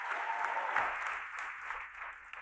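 An audience claps for a choir, a dense burst of applause that holds steady and then thins out toward the end.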